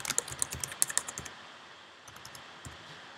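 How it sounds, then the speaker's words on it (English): Keys clicking on a computer keyboard in a quick burst of close, crisp taps that slow and fade into a few scattered presses, with no voice over them. "so I'm typing my name."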